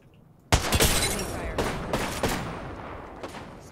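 Gunfire in the shooter game Apex Legends bursts in suddenly after a quiet start, a loud rapid volley followed by a few sharp separate shots that fade into a decaying tail.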